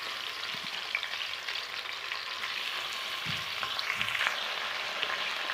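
Chicken sizzles in a hot pan with mint for a Tamil chicken curry, a dense, constant frying hiss close up, with a few soft stirring knocks and no voices.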